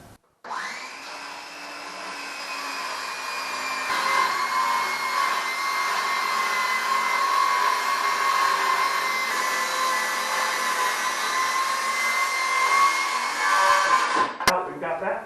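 A saw running along a homemade DIY saw guide, cutting a wood piece clamped in place, gives a loud, steady whining drone that lasts about fourteen seconds before stopping abruptly.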